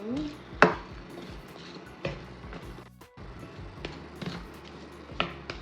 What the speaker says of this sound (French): On va mélanger tout ça.